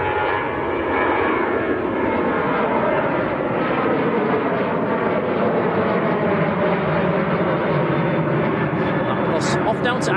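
A plane departing Manchester Airport gives off a loud, steady jet roar that holds for the full stretch with a wide, rushing texture and no let-up.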